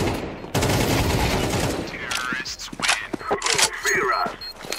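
Gunfire in a video game shootout: a loud burst of rapid shots opens, followed by scattered sharp reports and effects while a player talks over the action.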